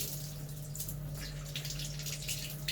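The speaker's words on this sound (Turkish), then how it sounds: "Şuradan biraz su açıp su akıtacağım." Steady water running from a tap during a membrane filter test, a continuous soft hiss with a low hum from equipment underneath, no talking.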